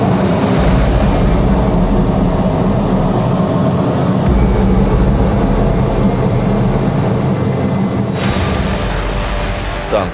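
A T-80 tank engine roars on a muddy field, a loud, steady, broadband drone that carries on without a break and has no talk over it.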